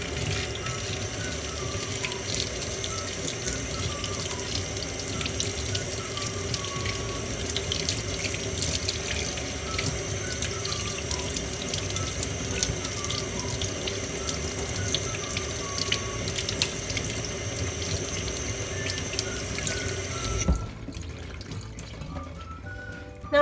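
Warm water runs steadily from a tap into a sink, rinsing a doll, a continuous close splashing rush that cuts off abruptly near the end.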